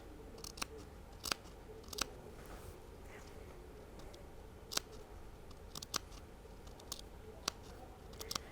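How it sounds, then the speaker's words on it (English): Fabric scissors snip into the seam allowances of a jacket sleeve in quick, sharp clips spaced irregularly, close but quiet over a low room hum, with no talking. "So you can do a few little clips into the seam allowances, about every 1/2 inch."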